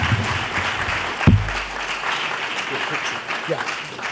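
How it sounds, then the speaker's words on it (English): Audience applause at a school board meeting honoring Section 2 Class B champions, a steady round of clapping from a room full of people, with a loud thump partway through. "can we get one round of applause for these guys for Section 2 Class B champions"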